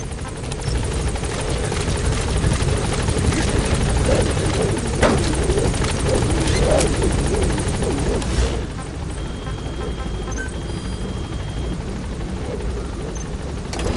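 A helicopter lifts off in the video game Metal Gear Solid V, its rotor chopping in a loud, steady thrum that stays close and constant before easing slightly.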